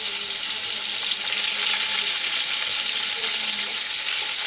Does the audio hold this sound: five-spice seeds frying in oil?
yes